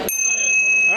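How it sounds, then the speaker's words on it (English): A bell rung to signal the start of a card-passing group activity at a fire station community session, one bright sustained ring with a long steady tone and a second strike near the end, over faint room murmur. "Once I ring the bell, then you can start."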